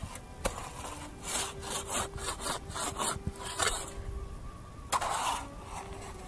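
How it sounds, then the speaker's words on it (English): A chainsaw cuts through wood in loud, rasping bursts with a steady engine drone underneath and a sharp snap near the end. No one speaks. "See this chainsaw?"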